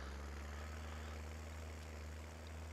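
A tractor engine idles in Farming Simulator 19, a steady low drone with a constant hum that runs unbroken and fairly faint throughout, with no talk over it.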